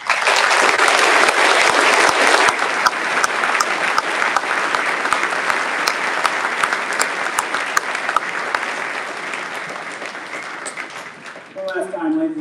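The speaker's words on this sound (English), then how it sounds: "let's give these honorees a round of applause." An audience at a graduation ceremony applauds honorees, sustained dense clapping from a large crowd that fades toward the end, with a voice speaking briefly at the close.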